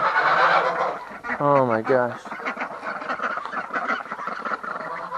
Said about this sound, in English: Freaking geese, I tell you.